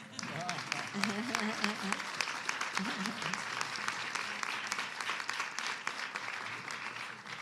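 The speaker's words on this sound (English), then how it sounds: "That's a line for applause." An audience at a House Democrats' health care legislation event breaks into dense, sustained applause throughout, with faint voices early on.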